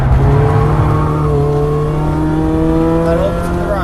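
A track-day car at Cadwell accelerating at full power, its engine note loud, close and climbing steadily with gear-driven whine over a constant roar.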